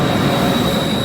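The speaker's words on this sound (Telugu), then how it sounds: "ఓకే, మన ట్రైన్" Train at Milan's large railway station, a dense steady rumble with a thin high squeal riding over it, close and loud, without voices.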